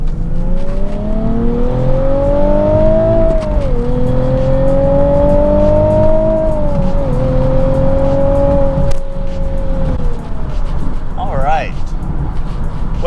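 A Nissan 370Z Nismo fitted with silicone intake pipes accelerates hard, its engine note climbing steadily through gears with brief dips at each shift, loud and close with road noise underneath.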